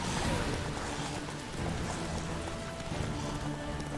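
Horse hooves clip-clopping at a steady gallop in the video game Witcher 3, a continuous loud rhythmic drumming that runs through the whole stretch alone.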